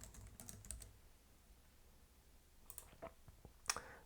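Scattered keystrokes on a computer keyboard while an email address is typed into a sign-up form, faint and intermittent with a few quick clicks, no talking.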